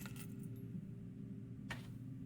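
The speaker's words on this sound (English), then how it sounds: "Oh, some car keys." Car keys jangle in the video game Blue Prince, a quick metallic shake near the start and another near the end over a steady low game hum.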